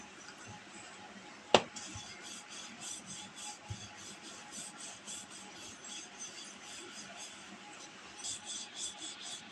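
A rolling pin is rolled lightly back and forth over potato-stuffed paratha dough, giving faint, soft rubbing and scraping, with one sharp knock near the start.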